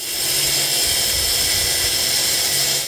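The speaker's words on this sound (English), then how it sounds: "Out came the grinding wheel." A grinding wheel cutting down a steel wrench, a loud continuous high-pitched grinding whine with rough, gritty texture, held steadily from start to finish.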